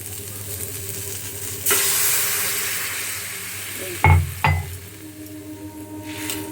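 Water poured into a hot frying pan for a millet rice lunch dish bursts into a loud hiss and crackle that settles into steady sizzling, with two sharp metallic knocks of the pan near the end.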